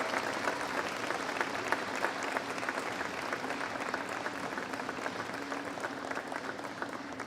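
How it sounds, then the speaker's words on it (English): An audience applauds new National Honor Society members at a school induction ceremony, steady dense clapping filling the room from start to finish at an even level. "Please give a round of applause for our new National Honor Society members."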